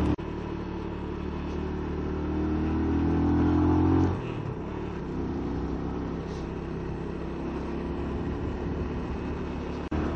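Motorcycle engine straining as it climbs in second gear on a tough mountain ride. A steady droning rumble builds for about four seconds, then drops as the revs fall, and a lower engine hum carries on, close and without speech.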